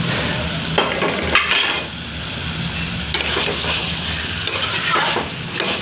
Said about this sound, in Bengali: এভাবে আমি কষবো বেশ কিছুক্ষণ